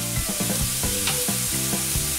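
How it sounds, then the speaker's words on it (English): Ground pork browns in a pan, a dense steady sizzle with rhythmic scraping stirs close by. "Now we're just gonna brown this meat."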